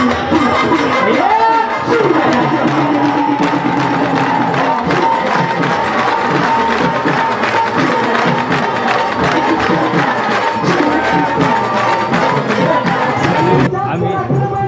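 A dense crowd chants rhythmically in unison at the procession for the 352nd anniversary of Shivaji Maharaj's coronation, voices loud and close and sustained throughout, cutting off near the end.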